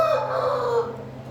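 A single rooster crow rings out close and loud, a drawn-out call that rises and then fades away within about a second, with no other sound around it.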